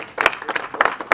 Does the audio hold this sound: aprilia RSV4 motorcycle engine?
no